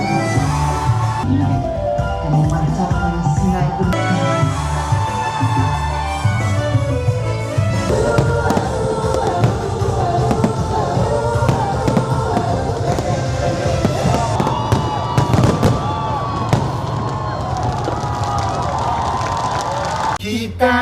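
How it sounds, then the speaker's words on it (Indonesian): Fireworks crackle and pop at a Malaysian Merdeka celebration amid a lively cheering crowd, with music and people talking over the bursts. "Ada kembang api, firework."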